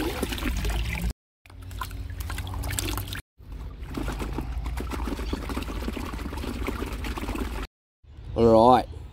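Water trickles and splashes in a gold pan during panning, a soft continuous wash broken by brief silent gaps, with a short, sharper splashy burst near the end.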